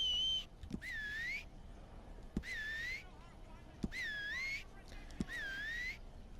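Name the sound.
character whistling with bad teeth, from video game Red Dead Redemption 2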